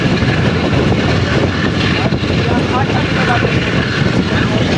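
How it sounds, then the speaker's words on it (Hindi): A passenger train runs through Habibabad railway station without stopping, heard from on board as a loud, continuous rumble and rattle of wheels and carriages, with faint voices under the din. "ट्रेन हमारी अभी हबीबाबाद रेलवे स्टेशन स्किप कर रही है।"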